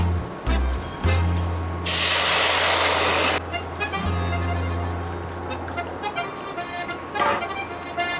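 Strained boiled water is poured into a hot pan of mustard seeds and chili, giving a loud hissing sizzle that bursts up, fades after a couple of seconds, then settles into softer bubbling with kitchen clatter.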